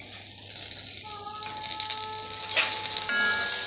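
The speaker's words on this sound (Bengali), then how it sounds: "ভালো করে ভেজে নেব।" A bay leaf and dried red chillies fry in hot oil with a continuous close sizzle and a faint rattle, some light tonal ringing mixed in.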